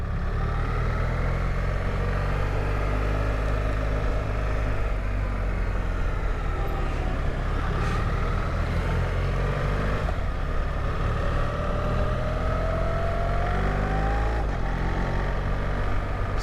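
A BMW R1300GS boxer-twin motorcycle rides along a road, its steady engine drone and wind roar continuous and close throughout, with slight shifts in pitch as it cruises.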